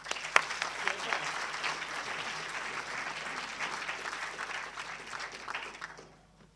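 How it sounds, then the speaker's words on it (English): Audience applause in a hall welcoming a speaker at a Bradford civic event, a steady dense wash of clapping with a sharp clap near the start, fading out at the end. "So with a big round of applause,"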